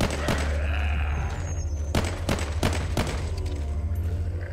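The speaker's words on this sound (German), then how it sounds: "Kann man gut hier die Zombies wegballern." Zombies being shot with a firearm in The Walking Zombie II: several sharp, loud gunshots at irregular intervals over a low, steady background hum.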